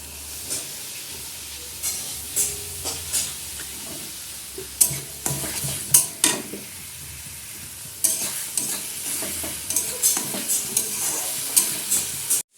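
Chicken manchurian frying in a pan as tomato sauce is added, a steady sizzle and hiss with repeated scraping stirs of a spatula recurring every second or so, close and clear.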